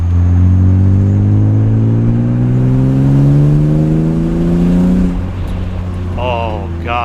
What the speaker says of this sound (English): The exhaust sounds awesome. For just an axleback?